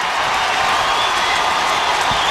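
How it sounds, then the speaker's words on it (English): Stadium crowd at an Australian football match applauding a player's 350th game milestone, a steady dense wash of clapping and crowd noise held for the whole moment without a break. "Be a full minute of applause."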